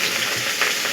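Pointed gourd (potol) frying in hot oil gives off a loud, continuous sizzle and crackle, close and steady for a moment, with no voices.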